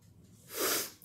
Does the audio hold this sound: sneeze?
yes